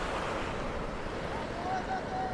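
Ocean waves at a Peruvian navy town, a steady close wash of surf with wind buffeting the microphone throughout, no distinct breaks between waves.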